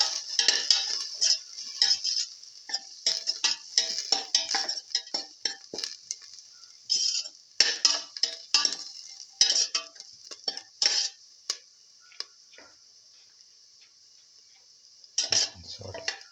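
Scrambled egg and potato sautéing in a pan, with busy metallic scraping and clinking of a spatula against the pan in irregular bursts over a faint sizzle, pausing briefly near the end.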